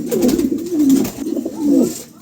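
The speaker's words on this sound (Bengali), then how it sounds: "খুবই চমৎকার এক জোড়া কবুতর" A pair of pigeons for sale coo close up with loud, throaty, rolling calls. Three coos follow in a steady rhythm.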